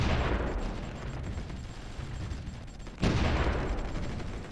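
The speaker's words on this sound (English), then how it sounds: "Oh, they're shooting from there." Distant gunfire rumbles through a battle in the strategy game Supreme Ruler Ultimate, a dense, continuous roar with one sharper burst near the end, no voices over it.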